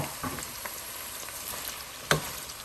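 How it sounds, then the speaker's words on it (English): Sliced onions frying in warm oil, a quiet steady sizzle with faint crackles and one sharper pop near the end. "To warm oil, add the sliced onions"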